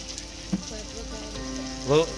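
Cooked rice being tempered in hot oil, a low continuous sizzle close by with a sharp louder burst of crackling near the end.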